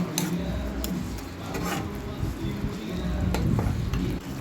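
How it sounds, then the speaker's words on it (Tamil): Red chilli powder and garam masala sautéing in a pan for egg keema, a steady close sizzle with scraping stirs and occasional sharp utensil clicks, continuous throughout with no speech. "இதுக்கு ஆட் பண்ணி நல்லா அந்த பச்சை வாசனை போகிற அளவுக்கு நல்லா வதக்கிட்டே இருக்கேன்"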